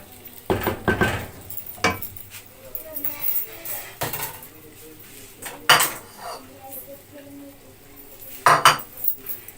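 A spoon clinks and scrapes against a clay matka pot as beef korma is ladled over rice, giving sharp intermittent clatters spaced by quieter rustling moments, close by.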